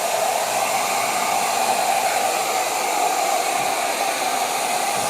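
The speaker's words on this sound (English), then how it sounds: "while this is cutting, the very first thing that you're going to notice is that we are pocketing out the handle" A CNC machine spindle cuts steadily while pocketing out a handle, giving a loud, continuous broadband roar and whine that stays even throughout, close and alone with no voices.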